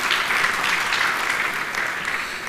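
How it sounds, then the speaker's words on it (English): An audience at an ICAI professional event gives a Vice President a round of applause: dense, even clapping from many hands that fills the whole moment and tapers only slightly at the end. "Let us have a big round of applause for our Honorable Vice President."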